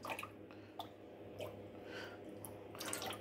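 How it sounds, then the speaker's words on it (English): Water drips and trickles from soaked Thai sticky rice in small, irregular splashes with soft squishy sounds, quiet and close, no talking. "the water drains out."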